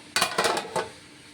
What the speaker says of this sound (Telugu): ఇదేం కలపొద్దు ఇలాగే మూత పెట్టేసుకుంటాను